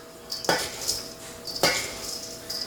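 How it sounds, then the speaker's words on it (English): A spoon scrapes and clanks against a bowl while dry granola ingredients with chopped pecans are stirred together, giving two sharp knocks about a second apart amid a light rustle and scraping. "So that's it for the dry ingredients, and you're just going to stir it up."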